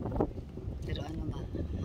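Steady wind noise buffets the microphone, with people talking throughout.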